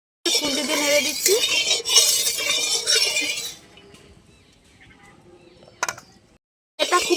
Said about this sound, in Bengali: খুন্তি দিয়ে নেড়ে দিচ্ছি